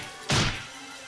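A single heavy wrench blow against a window in the Higurashi game, one sharp crashing thwack that rings briefly and fades, with no voices.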